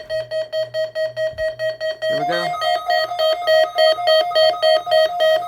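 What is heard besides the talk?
NOAA Weather Radio warning alarm tone test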